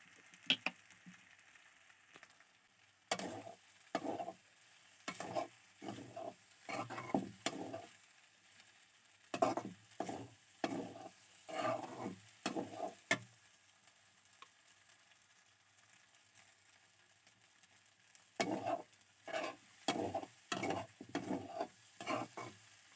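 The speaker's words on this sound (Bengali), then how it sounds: "আর এখন সস দিয়ে দিচ্ছি, একবারে সস দিয়ে ভালো করে নাড়াচাড়া করে নামিয়ে নিব।" Noodles and sauce are stirred in a pan with quiet, rhythmic scraping strokes and a faint sizzle, coming in clustered bursts separated by a silent pause.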